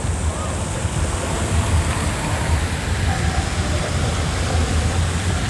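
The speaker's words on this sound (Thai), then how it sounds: "นี่ครับสระน้ำพุนะครับตรงนี้บรรยากาศดีเลยครับ" Water from a fountain pool in a city park in central Bangkok, a steady, dense rushing splash that holds evenly throughout without pauses, loud and close with no voices.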